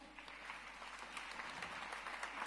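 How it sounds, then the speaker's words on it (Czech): Steady audience applause at an awards ceremony for a Man of the Year award, a dense continuous patter of many hands clapping with no talk over it. "Prosíme potlesk."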